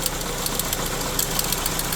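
A sick-sounding 4-cylinder car engine idles with the hood open, a steady, dense rough drone with a fast, faint ticking or clicking running through it, heard close up.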